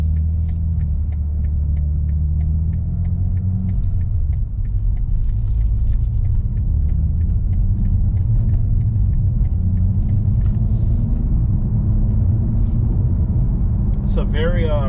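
A 2022 BMW M4 Competition's low road rumble drones steadily from inside the cabin, with faint regular ticks of tires over seams in the road.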